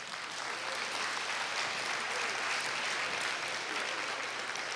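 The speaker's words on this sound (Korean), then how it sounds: "여러분 박수로 맞이해 주십시오" An alumni choir concert audience at Korea University claps to welcome the class-of-1986 ensemble, a dense, uniform applause holding steady throughout, moderately loud and without speech.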